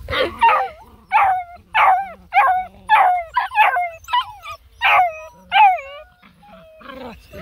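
Several Black and Tan Coonhound puppies bark and yip in high, excited bursts, close by, with whiny rising calls repeating every half second or so.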